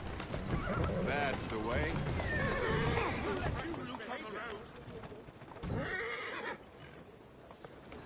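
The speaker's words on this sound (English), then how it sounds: "Who's a good horse? You are." A horse in the video game Assassin's Creed Syndicate whinnies and snorts over clip-clopping hooves, with someone talking over the animal throughout.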